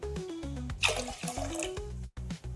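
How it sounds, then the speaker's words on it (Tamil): Water splashes and gurgles steadily into a pressure cooker for sweet pongal, a continuous close pour lasting a couple of seconds with a brief pause near the end. "மூணு கப் தண்ணி சேர்த்துக்கிறேன் மொத்தமாக சேர்த்து நாலரை கப்"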